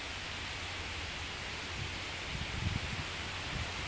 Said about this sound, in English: This has been raining like this for at least